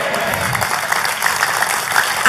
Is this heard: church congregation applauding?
yes